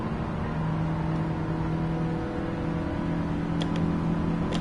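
A car engine in the video game Gran Turismo 7, a steady, droning hum that holds an even pitch throughout, with no voices over it.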